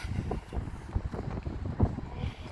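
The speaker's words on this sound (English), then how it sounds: "Very, very windy." Gusty wind in a Tajikistan mountain village buffets the microphone with low rumbling bursts, rising and falling irregularly and fairly loud throughout.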